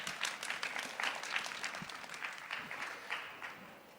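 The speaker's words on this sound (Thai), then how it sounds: "ขอเสียงปรบมือต้อนรับท่านหน่อยครับ" Audience applause welcomes a presenter at the Pathum Innotech 2025 pitching session at NSTDA, heard as moderately faint, uneven clapping with distinct individual claps that continues for about four seconds.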